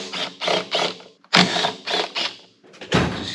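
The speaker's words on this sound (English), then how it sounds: "Seat bracket back here, you gotta take that off. Take these bolts out." A 5mm hex tool turning out the seat bracket bolts on a Kawasaki Z650/Ninja 650, heard as close, rhythmic ratcheting clicks in several short bursts with brief pauses.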